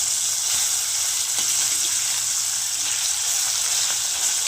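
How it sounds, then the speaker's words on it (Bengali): Bhola fish pieces fry crisp in a pan of hot oil, giving a continuous, bright hissing sizzle that stays steady and close throughout with no talking over it. "একটু মাছগুলো একটু কড়া কড়াই ভাজি আমি"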